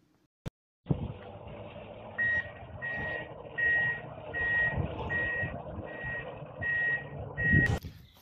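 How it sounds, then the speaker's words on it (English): Logging truck reversing in the woods, its backup alarm sounding as a steady series of repeated beeps over a low engine rumble, moderately distant and clear. "you can hear the loggers in the background"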